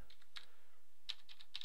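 Sparse, faint keystrokes on a computer keyboard while entering MATLAB code, a few isolated clicks and short bursts of typing over a quiet room.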